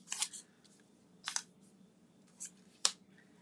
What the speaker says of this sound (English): So I need to use my bone folder.